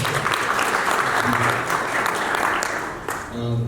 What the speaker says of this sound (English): Shall we give him a clap as well?